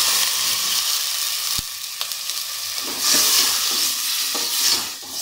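Onions and garlic sizzle and hiss in a hot pan, with a steady frying crackle and occasional scraping as they are stirred.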